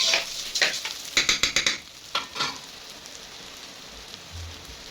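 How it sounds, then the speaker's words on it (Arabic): Rice sizzles as it is stirred and fried in ghee in a pan, with several bursts of crackling scraping strokes early on that fade into a soft, faint hiss. "لازم تشوحوا الرز كويس في السمنه علشان يبقى مفلفل معاكي"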